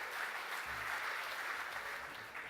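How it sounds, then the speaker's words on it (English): Audience applause for a player coming up on stage at a sports awards presentation marking 200 games and the Jim Sullivan Medal, a steady, fairly faint wash of clapping throughout. "can we give Clive a big round of applause as he comes up"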